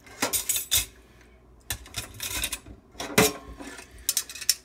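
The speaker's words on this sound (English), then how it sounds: "Find a cup, put utensils in them." Metal cutlery and dishes clink and rattle while being gathered into a cup during hand dishwashing, several quick bursts of clatter close by with short pauses between.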